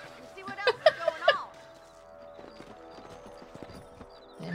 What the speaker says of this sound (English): Let's get back on the horses and see what else is